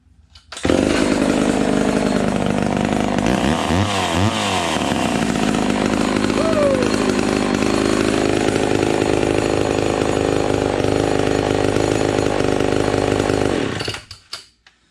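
A Homelite Super XL12 chainsaw, an Evil Dead replica with a freshly repaired carburetor still needing tuning, roars to life and runs loud and close for about thirteen seconds, its engine pitch wavering briefly early on before it cuts off.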